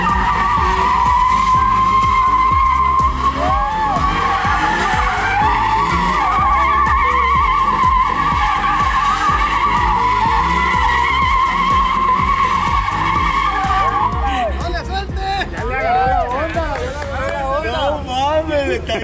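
A 2023 single-cab Ford F-150 with a Coyote engine revs hard while its tires skid and squeal continuously, loud and close, with people shouting and talking over it.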